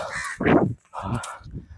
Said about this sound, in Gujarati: કાગડાનો અવાજ આવે